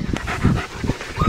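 Close, quick panting from small wet puppies playing in a kiddie pool, rapid breathy huffs in an uneven rhythm.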